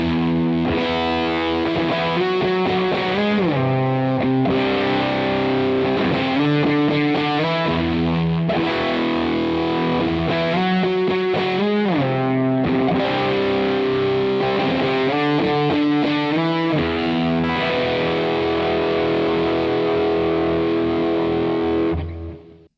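Electric guitar played through a Kernom Moho fuzz pedal set for thick Big Muff-style tones, loud sustained distorted chords and riffs with bending notes, dense and saturated throughout before cutting off at the end.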